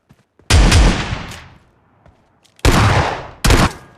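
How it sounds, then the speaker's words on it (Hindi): Three loud shotgun blasts fire in PUBG Mobile Lite, each a sharp booming crack with a fading tail, the first ringing out long and the last two coming close together. "पास जाकर शॉटगन से हेड बजा देते हैं"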